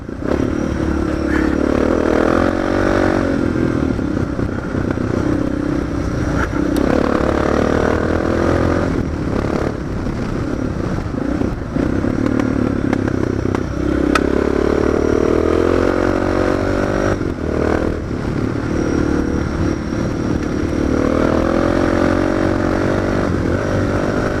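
A motorcycle rides fast on a run day, its engine droning loudly and steadily with shifting pitch for the whole stretch, wind and road noise mixed in.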